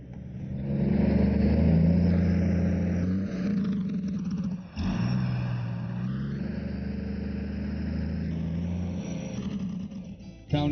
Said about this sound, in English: Tony, I want to check the Jacobs brake on the truck